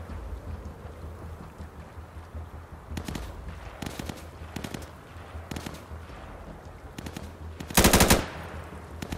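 Gunfire in the shooter game Insurgency: scattered bursts of distant automatic fire, ending in one louder, closer volley over quiet ambient noise.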